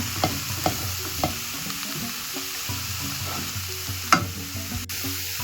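Cauliflower rice frying in a pan while being stirred, with intermittent scraping strokes and one sharper knock over a low sizzle, close and fairly quiet, no talking.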